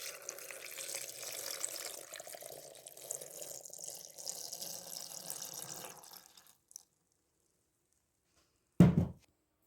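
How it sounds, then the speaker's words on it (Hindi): Milk pours into mango lassi, a soft, low, trickling splash for about six seconds before it tapers off, followed by silence and then one brief thunk. "अब इसमें मैं मिल्क डालूँगी।"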